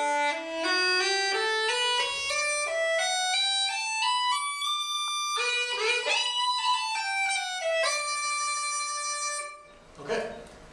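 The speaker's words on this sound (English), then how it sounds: "But with the Uilleann pipes you can do this." Uilleann pipes chanter plays a reedy melodic passage of rising and falling notes, bright and close, sustained for several seconds before stopping.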